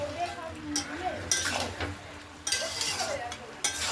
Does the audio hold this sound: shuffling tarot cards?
no